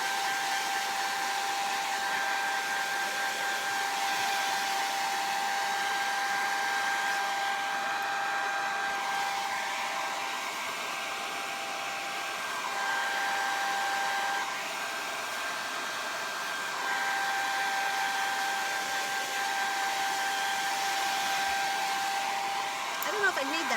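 A hair dryer blowing steadily on a torn journal page, a continuous close whooshing drone with a faint whine that runs unbroken for the whole stretch.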